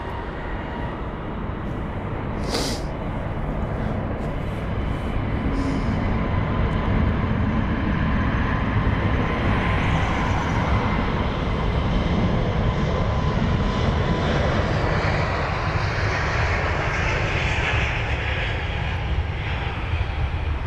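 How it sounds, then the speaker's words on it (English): An Aegean Airbus A321neo jet departs Heathrow for Athens, its engines a loud, sustained roar that builds and swells over the full stretch, heard from the ground at an airport. "There it is. Finally off to Athens. The Aegean Airbus A321 Neo,"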